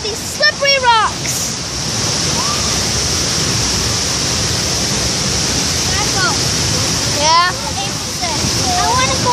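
Steady broadband rush of a waterfall pouring over slippery rocks fills the whole clip at close range, with birds chirping faintly above it and brief snippets of voices.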